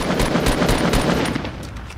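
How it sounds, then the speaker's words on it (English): Rapid automatic gunfire rattles out in a dense, loud burst of shots during a Fortnite Battle Royale match, close and continuous with no talk over it. "I'm just gonna fire some shots at it."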